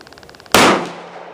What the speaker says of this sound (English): get two more here, I'll just shoot them off